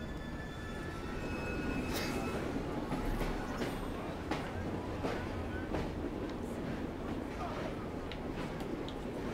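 A train rolling into a station in Assassin's Creed Syndicate, with a steady rumble of wheels on rails and occasional clanks and squeals, running continuously at moderate loudness.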